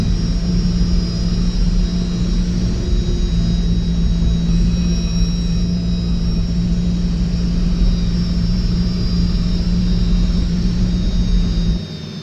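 A boat engine in the HydroSim simulator game runs in a loud, steady drone with a constant whining tone above it, and it cuts off abruptly at the very end.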